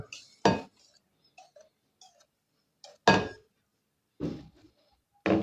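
A utensil stirring coconut cake batter in a bowl, with a few sharp knocks and clinks against the bowl's side separated by quiet gaps.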